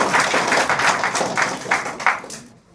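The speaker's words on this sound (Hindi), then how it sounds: "उनके लिए एक बार ज़ोरदार ताली पूरी टीम के लिए देनी" Audience applause for a team at a university student address on career pathways, a sustained patter of many hands clapping at close range with uneven surges before it trails off.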